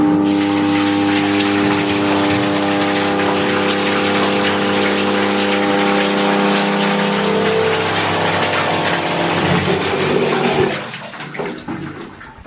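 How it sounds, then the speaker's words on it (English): Water pump emptying a container while building a garden turtle pond, a loud, steady gushing rush of water with a constant mechanical drone that falters and sputters near the end as the flow breaks up. "Now I know that this pump is really working well."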